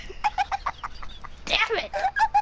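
Rapid chicken clucks in a video game, a quick run of short squawking calls with a louder burst midway, close and over light background sound.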